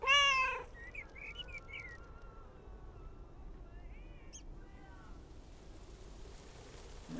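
A cat meows in the video game Lake, a short harmonic cry near the start over a steady ambient bed, followed by faint bird-like chirps and quiet game background sound.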